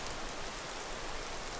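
Steady rain falls in the Skyrim video game, a dense, even hiss of drops on the ground, close and constant with no voices.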